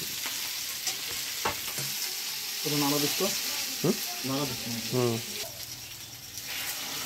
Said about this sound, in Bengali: সুন্দর করে নাড়তে হবে